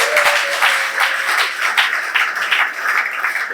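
Wedding guests clap together in a steady, dense burst of applause that holds at an even level for a few seconds, with no clear talking on top.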